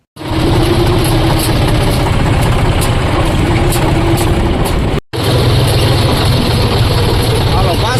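A John Deere 5045 tractor engine idles nearby with a loud, steady low rumble. The drone cuts out for a moment and then resumes just as strong.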